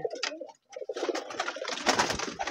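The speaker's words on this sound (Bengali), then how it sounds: "মেলা কবুতর আছে ভাই" Pigeons kept in a pigeon farm house coo and burble close by in a dense, overlapping cluster, with a brief pause before the sound swells louder again.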